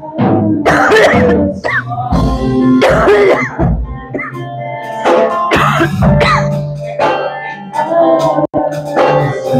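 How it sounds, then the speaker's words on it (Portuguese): Several harsh coughs and throat-clearing sounds during a church sermon come in bursts, loud and close, filling the stretch with little pause. "Mas essa tosse foi uma ataque."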